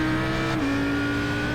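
Audi R8 GT3 race car at Mount Panorama Bathurst: a loud, continuous engine drone whose pitch drops sharply once, as at a gear change, with no voices.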